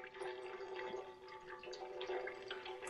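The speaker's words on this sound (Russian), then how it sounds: "вот так вот проходит фильтрация воды" Water trickles and drips through a portable camping filter outdoors beside a taiga river, a faint, steady wet patter with no break.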